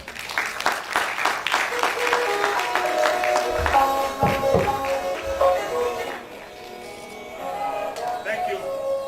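An audience at a debate applauds with dense, steady clapping, and voices speak over it as it tapers off toward quieter talk.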